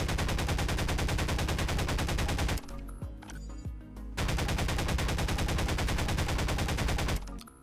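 Rapid automatic gunfire in Garry's Mod pours into a destructible tree in long, loud sustained bursts, broken by a short pause with a few scattered single shots before the fire resumes, with no voices.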